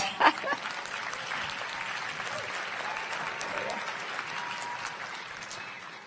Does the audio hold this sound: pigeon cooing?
no